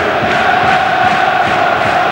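Swedish Djurgården supporters at a football match in Copenhagen chant and cheer as a steady, dense crowd roar, loud and unbroken, with rhythmic swells from the massed voices.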